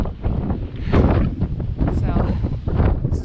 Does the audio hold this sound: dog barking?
no